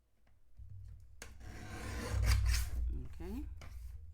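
A blade trims the edge of a handmade paper Valentine's Day card with a close, rasping, scratchy cutting sound that builds over a few seconds, followed by a few light rustles.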